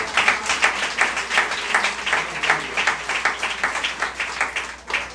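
A church congregation claps together in a steady, rhythmic beat, with rounded swells of hands striking throughout.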